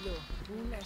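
Minecraft sheep give a few wavering bleats in a farm pen, heard up close and fairly loud with short pauses between calls.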